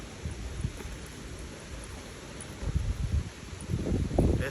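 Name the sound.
leaves rustling in the wind, peepal tree, Rishikesh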